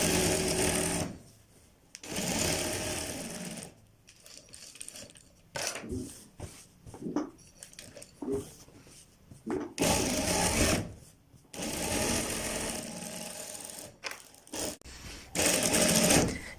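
Sewing machine stitching kurta fabric along a pressed crease, running in several long bursts of steady mechanical whirring separated by short pauses and handling noises.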